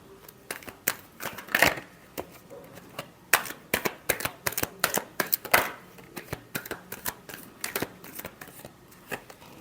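Tarot cards are shuffled by hand at close range, giving a rapid series of crisp riffling snaps and flutters in uneven bursts throughout.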